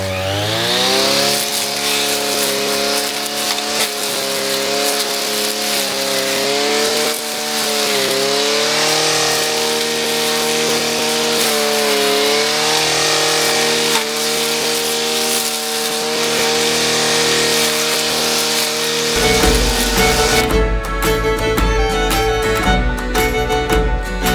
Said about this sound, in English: I've trimmed all that bramble bush back now as far as I can